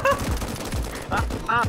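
Rapid gunfire bursts from a Roblox military rescue game, loud and close, repeating in several clusters while a shouting voice talks over the shooting.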